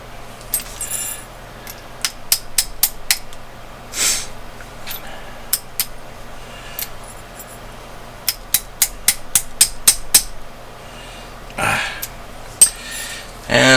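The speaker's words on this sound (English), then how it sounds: "get my pin, tap it in from the other side" Metal pin being tapped into a Marlin Glenfield Model 60 rifle during reassembly: a quick series of sharp, bright metallic taps, some in rapid bursts, with a few softer shuffling handling noises between them, close and alone.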